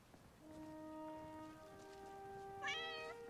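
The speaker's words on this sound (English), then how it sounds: "Meow. Out of the way, kitty cat." A cat meows in the Skyrim mod Lorerim: a long, steady, fairly quiet meow, then a shorter, rising second call near the end, with no one talking.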